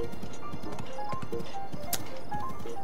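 Horse hooves clip-clopping in a steady galloping rhythm in The Legend of Zelda: Breath of the Wild, under soft game music and ambience.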